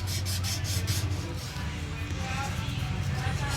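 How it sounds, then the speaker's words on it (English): Emery cloth rubbing back and forth over a dented, scratched motorcycle fork tube, a steady close scraping hiss with a rhythmic stroke pattern throughout, with no one speaking. "So I'm gonna take some emery cloth, gonna buff it like this,"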